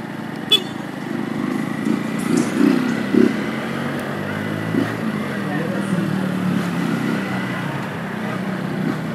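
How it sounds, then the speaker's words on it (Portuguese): On a test ride, the engine of a 2016 Honda Fan 160 motorcycle hums low and constant close to the microphone, with a few faint clicks and small bumps over the steady running. "E eu peguei a moto aqui dele pra dar uma andada, que é a Fã 160 2016 aqui."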